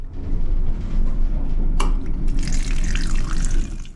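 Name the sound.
water running from a sink tap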